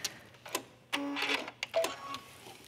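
A sewing machine stitches a curve in white thread through a garment neckline in short, stop-start bursts of quiet mechanical whirring, with brief pauses and handling clicks between runs.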